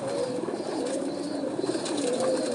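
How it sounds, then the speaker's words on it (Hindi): Pigeons coo steadily from a rooftop loft, soft throaty calls repeating close by over a continuous background hum, with no speech. "अब मैं आपको कबूतर दिखाता हूँ"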